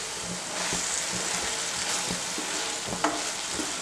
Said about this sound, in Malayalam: അപ്പം നമ്മുടെ ഗ്രേവി നന്നായിട്ട് വെന്ത് തിളച്ച് നന്നായിട്ടായിട്ട് ആ എണ്ണയൊക്കെ തെളിഞ്ഞ് ഇങ്ങനെ